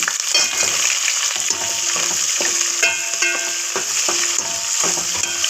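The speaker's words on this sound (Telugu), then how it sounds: "పెద్దవి రెండు ఉల్లిపాయలు సన్నగా కోసుకొని వేసుకోవాలి ఇప్పుడు బాగా ఫ్రై చేసుకోవాలండి" Thinly sliced onions and fresh curry leaves fry in a hot pan for ajwain porridge, a steady loud sizzle with a spatula scraping and tapping the pan every second or so, no voices.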